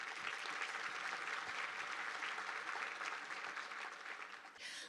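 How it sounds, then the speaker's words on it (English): An audience at an economic outlook event applauds business expo exhibitors with a sustained, even round of clapping from a large room, fading slightly at the end. "Let's give them all a round of applause"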